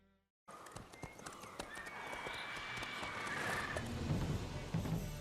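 Hooves of Roach, Geralt's horse in the video game The Witcher 3: Wild Hunt, clip-clopping through a cutscene in White Orchard, a steady trotting rhythm that grows louder under wind and ambient game sound after a brief silent start.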